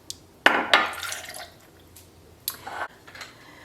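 Cranberry simple syrup is poured into a keto cocktail, a couple of short glassy clinks followed by brief liquid trickles and a soft splash, close and otherwise quiet.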